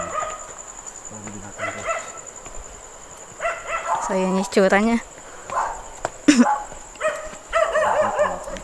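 A dog barking during a night exploration of the 1000 steps at Holy Cross Minalungao, repeated nearby barks and yips scattered through the clip, mixed with people talking and insect hum.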